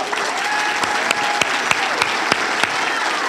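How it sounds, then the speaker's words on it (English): A crowd at a Brownsville State of the City 2023 event applauds steadily for the city's first female city manager, dense even clapping with a few sharper claps standing out, no talking over it. "A big round of applause for Helen."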